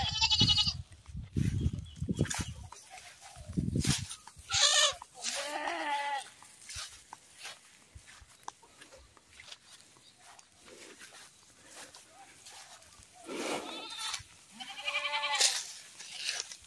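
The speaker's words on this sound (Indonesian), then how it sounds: "Ini kambing Jawa, kalau orang Jawa mengatakan ini wedhus kacang atau wedhus Jawa ya" Small, stocky Javanese goats (kambing Jawa) bleating repeatedly near and at a middle distance, with several wavering calls in bursts separated by quieter stretches of rustling.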